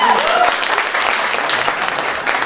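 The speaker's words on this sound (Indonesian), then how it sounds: "tepuk tangan buat Eri." Students clapping together during a school motivation session, a loud, dense burst of applause sustained for a couple of seconds, with no talking over it.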